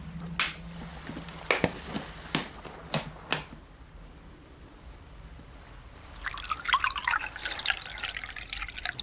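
Several drips and taps come first, then after a pause a soft, close trickle of water pours for a few seconds in a quiet spa relaxation setting, with no talking.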